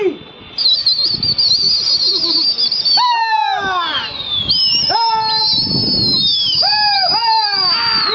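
Pigeons taking to the air during a Lucknow pigeon-keeping session, with sharp whistling calls and descending swooping tones rising and falling across the flight, steady rustle beneath, and a voice talking now and then.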